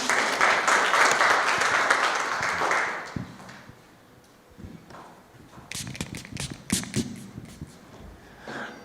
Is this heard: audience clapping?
yes